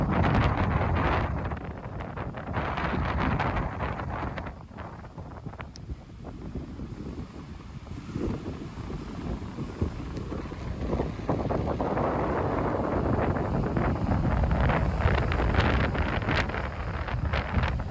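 Strong wind gusts roar and buffet continuously for the whole stretch, with rumbling bursts rising and falling, loud and close.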